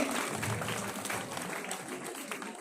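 An audience claps steadily for Maruthi High School at a school results felicitation event, a dense, continuous wash of hands throughout with no pause, fairly close and filling the room.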